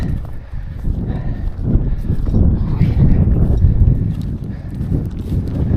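Loud, gusty wind buffets the microphone with a constant low rumble and no voices.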